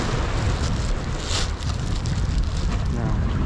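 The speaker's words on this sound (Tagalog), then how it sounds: "Napakalakas ng hangin dito sa pwesto namin." Strong wind at a seaside fishing spot, a loud continuous rushing roar buffeting close against the microphone, with brief gusts that swell and ease.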